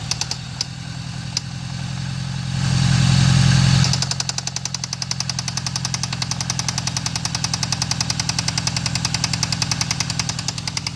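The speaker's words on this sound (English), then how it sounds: "So what do you guys think? Rod knock, possibly?" The engine of a 1995 GSX idles with a possible rod knock, a steady rapid ticking knock over a continuous mid-pitched hum, with a brief swell in revs early on; no talking.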